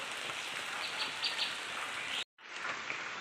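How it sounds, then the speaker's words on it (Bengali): Continuous rain falls outdoors, a soft even patter with faint bird chirps, cut by a brief silent gap before the rain resumes. "কালকে রাত্রি দিয়ে শুরু হয়েছে বৃষ্টি"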